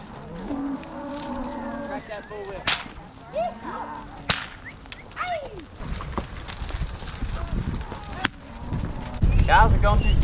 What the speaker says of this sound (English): Crack that bull whip.